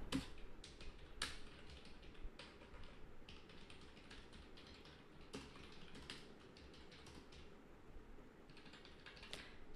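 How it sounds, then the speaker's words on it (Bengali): An address is typed on a computer keyboard as a quiet run of close, irregular key clicks, with short pauses between bursts and no voices. "পার্মানেন্ট অ্যাড্রেস আমি ফুল এখানে টাইপ করে দিচ্ছি।"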